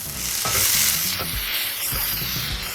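Food with tomato paste sizzles steadily in a hot pan while a utensil stirs and scrapes through it in repeated strokes, close and fairly loud.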